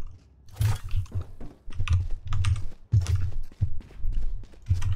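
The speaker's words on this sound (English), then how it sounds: "I can hear my keyboard and mouse" Keyboard keys and a mouse clatter in steady, uneven bursts of close, clicky taps during a live gaming stream, with no speech over them.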